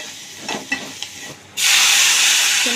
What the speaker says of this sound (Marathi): थोडा वाटलेलं वाटण आपण टाकून घेणार आहोत. त्याच्यात तेलामध्ये फ्राय करून घेणार आहोत